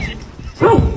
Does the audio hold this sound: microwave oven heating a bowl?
no